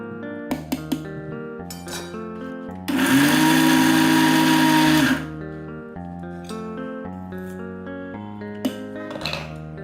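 Roasted peanuts being ground into powder in a kitchen mixer grinder, a loud steady whirring burst of about two seconds standing out over quieter background music.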